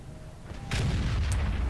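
A tank cannon fires in a tank video game, one heavy boom with a sharp crack that swells into a low rumbling roar, close and loud.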